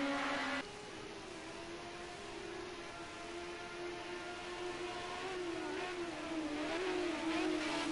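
Group A touring race cars racing at Bathurst on a sim track, a steady engine drone that shifts pitch and builds toward the end, alone without talk.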